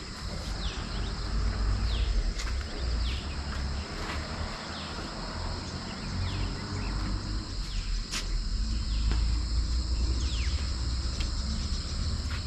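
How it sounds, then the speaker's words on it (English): Birds chirp in repeated short, sweeping calls across forest at Bandipur tiger reserve, heard from a watchtower, over a dense, constant drone of insects and crickets with no talking. "you can hear the nice chirping of birds"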